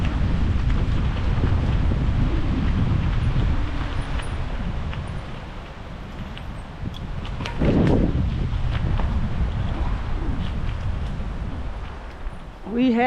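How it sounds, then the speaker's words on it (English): Strong gusting wind roars across the microphone outdoors near a creek and lake, a loud, continuous low rumble with brief surges, under which someone speaks. "It's so windy"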